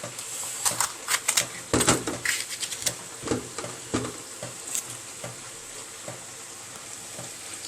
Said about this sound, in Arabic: نخرط الفلفل بتاعنا الجميل ده